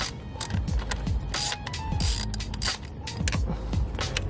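A hand ratchet breaks loose the coil pack bolts on a BMW 650i Gran Coupe engine, giving quick repeated clicking strokes close up with metallic clatter and no talk.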